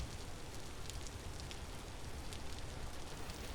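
Steady, close rain pours down in the video game Vintage Story, a dense, even hiss of drops drumming on a surface with occasional brighter patters, constant throughout with no talk.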